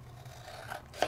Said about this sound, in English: I am going to cut myself a piece of this beautiful satin paper.